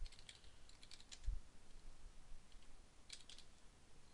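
Quiet, close computer keyboard typing in short bursts of clicking keystrokes while an email address is entered into a new-user form, with near silence between bursts.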